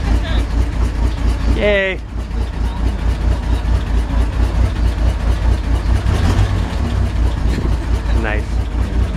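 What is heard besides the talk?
1966 Chevrolet engine starting and idling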